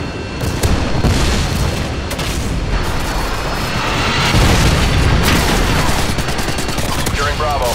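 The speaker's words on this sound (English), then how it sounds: "Friendly Predator missile incoming" In Modern Warfare 2 on the Highrise map during a Ground War Domination match, Predator missile strikes and heavy gunfire erupt as a dense, continuous barrage of loud booms and rattling shots, sustained throughout without a break.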